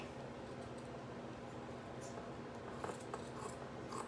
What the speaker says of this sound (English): And don't tell Scott I'm using my ribbon scissors.